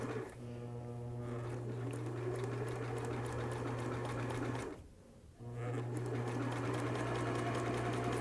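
A sewing machine runs a long steady stitch along a curved cap seam, a continuous hum broken by a short pause near the middle before it starts up again and keeps going.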